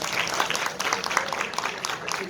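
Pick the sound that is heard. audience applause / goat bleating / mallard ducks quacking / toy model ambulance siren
audience applause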